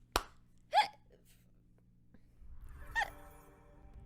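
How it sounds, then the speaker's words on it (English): A person hiccups several times: a sharp catch at the start, a louder gasping hiccup soon after and another near the end, each isolated against quiet room noise. "I'm having multiple hiccups."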